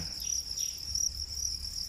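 Dense, steady chirping from crickets kept in farm breeding pens, a continuous high trill filling the space with no voices.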